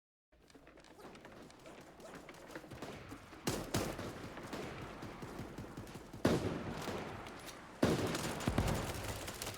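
Gunfire in the shooter game SAR, rapid bursts of shots building in intensity with several louder volleys, close and sharp, with no one talking.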